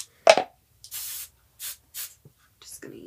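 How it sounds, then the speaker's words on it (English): Cheap hairspray from an aerosol can, sprayed in three short separate hissing bursts after a brief knock, close and fairly loud against near silence. "Just gonna use the cheap hairspray today."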